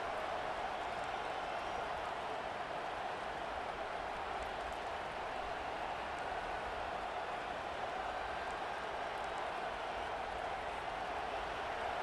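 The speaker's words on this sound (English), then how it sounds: "Listen to the crowd energy here in the early going." Steady roar of a large stadium crowd at a college football game in EA Sports College Football 25, a dense continuous wash of cheering voices with no breaks, moderately loud and distant.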